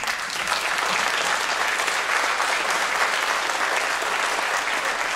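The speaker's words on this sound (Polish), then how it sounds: "wznieśmy oklaski dla reżysera" At a film festival meet-the-filmmakers event, the audience claps for the director in a dense, even burst of applause that stays at full strength for about five seconds.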